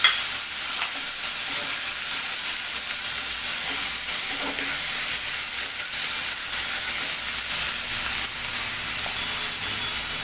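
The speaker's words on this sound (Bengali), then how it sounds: "এবারে পেঁয়াজ বাটাটাকে দিয়ে দিলাম।" Onion paste frying in a pan over a medium gas flame, a steady bright sizzle throughout with soft intermittent stirring scrapes, close and continuous with no talk.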